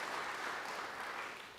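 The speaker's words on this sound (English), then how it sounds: "we need to give him another round of applause" Audience applause fills a large hall at an awards ceremony, a steady dense wash of many hands clapping throughout, loud and sustained.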